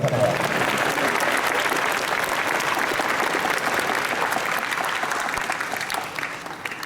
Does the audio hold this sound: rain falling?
no